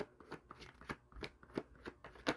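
Tarot cards are shuffled and drawn by hand, a quick run of soft riffling slaps and papery flicks in an irregular rhythm, close and fairly quiet.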